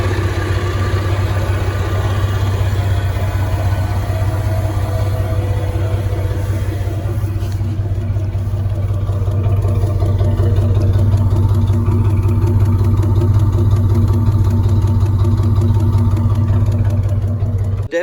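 A car engine idles through a Flowmaster catalytic converter and exhaust, a loud, steady low rumble held close for the whole stretch without any revving.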